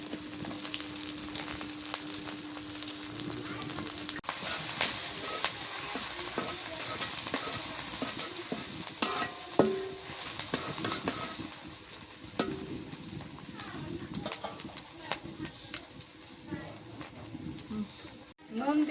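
Chopped onion and tomato fry in a pan at a village kitchen, a steady hiss and sizzle with occasional stirring scrapes and clanks, while someone talks over the cooking.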